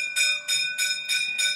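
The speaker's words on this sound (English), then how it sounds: "there's the bell to get the kids back into the classroom" A school bell rings in five evenly spaced electric bursts, bright and steady, calling children back into the classroom, heard clearly without speech.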